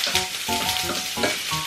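Food sizzles and crackles in hot sunflower oil in a pan, a close, steady frying hiss with stirring bursts, no voices.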